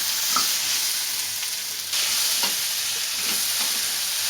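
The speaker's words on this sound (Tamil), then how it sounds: "ஒரு 2 நிமிஷம் நம்ம இதில் இந்த எண்ணெயில் வதக்கினா போதும்." Boiled tapioca (kappa kizhangu) stir-frying in oil, a continuous bright sizzle with soft scraping stirs every second or so, close and steady with no voices.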